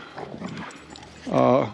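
A red golden retriever puppy gives a single drawn-out whimpering whine near the end, after some soft indistinct sounds and faint voices.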